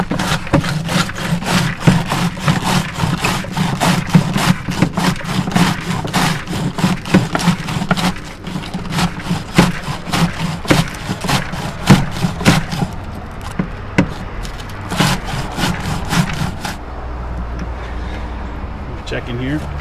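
Cabbage being chopped and ground up for sauerkraut, a dense run of rapid rhythmic chopping strikes with a steady grinding rumble underneath, loud and close, stopping near the end, with a person talking over it.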